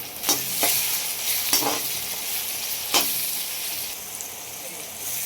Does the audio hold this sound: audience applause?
no